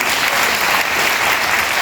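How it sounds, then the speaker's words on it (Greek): Cinema audience at a movie theatre in Veria claps loudly and continuously, a brief, close, dense burst of applause. "οπότε νομίζω ότι το αξίζει ακόμη ένα χειροκρότημα."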